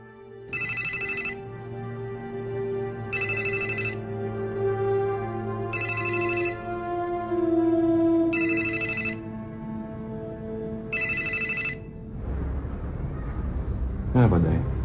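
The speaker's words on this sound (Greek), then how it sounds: "Θα πάρω εγώ ένα τηλέφωνο στο σπίτι." An unanswered telephone rings on the line in five evenly spaced bursts, each a buzzy electronic trill, over background music, followed by a brief clunk.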